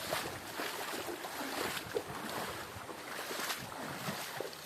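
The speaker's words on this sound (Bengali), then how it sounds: "ঝর্ণার আওয়াজ দিতেছে" Rushing water from the Sahasradhara waterfall in Bangladesh makes a steady, broad roar that is fairly faint and distant, continuous with no voices.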